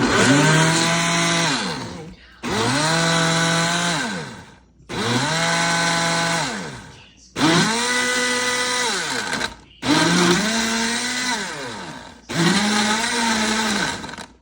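A blender whirs through a banana, apple and ice smoothie in six loud pulses, each motor burst rising in pitch, grinding roughly, then winding down before a brief pause.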